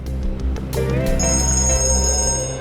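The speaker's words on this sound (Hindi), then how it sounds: "एक मिनट, फोन आ रहा है।" A ringing bell-like phone tone with steady high harmonic lines, repeating over a low hum, fairly close and clear with no talking.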